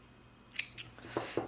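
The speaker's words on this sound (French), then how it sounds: "on va juste couper le fil" A few quick snips of scissors cutting crochet yarn, close and fairly quiet, with two sharp clicks followed by two softer cuts about a second later.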